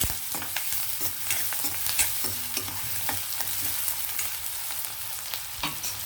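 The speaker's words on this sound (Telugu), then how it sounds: "ఇవి కూడా కొంచెం వేగనిద్దామండి ఆనియన్ కూడా" Onions fry in a pan with a soft, continuous sizzle, broken by scattered light scraping clicks as they are stirred, fairly quiet and close with no voices.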